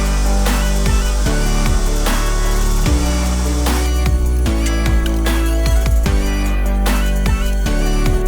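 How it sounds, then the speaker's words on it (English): A power tool cuts a dado in a quarter-inch plywood piece over two passes, a loud, continuous high-pitched whine with repeated bursts and scraping as the wood is fed through, close up and without speech. "I'm essentially just making a dado, but because it's only a 1/4 inch piece, I'm just gonna run it through this a couple times"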